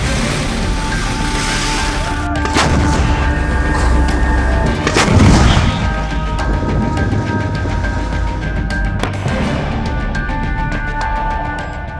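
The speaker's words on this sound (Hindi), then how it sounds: "इजराइल लेबनान बॉर्डर पर लगातार गोला बारूद बरसा रहा है" Artillery shelling on the Israel-Lebanon border, a loud rumbling background punctuated by a few heavy booming blasts spaced several seconds apart.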